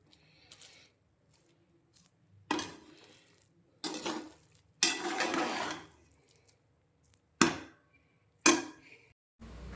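A spoon stirring and scraping through a cooked rice bath dish in an opened pressure cooker pot. Several separate bursts of metallic scraping with quiet pauses between them, near and moderately loud, with no talking.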